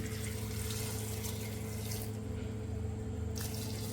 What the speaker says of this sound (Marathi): आता यामध्ये मी पाणी टाकून घेते